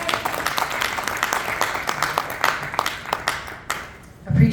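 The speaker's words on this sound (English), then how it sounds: "Can we get a round of applause?" Audience applause at a Web3 expo after a session, moderate clapping running throughout and fading near the end, when a voice comes in.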